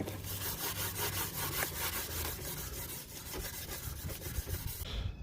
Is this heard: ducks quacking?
no